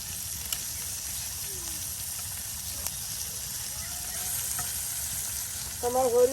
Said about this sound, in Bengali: এই যে ভাবি এখন সুন্দর করে মাংসগুলো দেখুন একদম তেলের সাথে ভেজে নিচ্ছে।